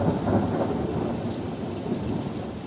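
Dense, steady rain pours during a thunderstorm, a continuous hiss with a low thunder rumble rolling underneath, close and fairly loud with no voices.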